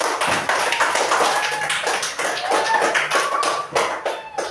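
A crowd claps steadily and continuously, a dense patter of many hands applauding, loud and close, with no speech.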